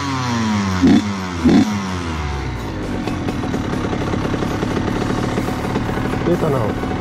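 A motorcycle engine, set to idle high, idles steadily with a couple of short revving bursts near the start and another near the end.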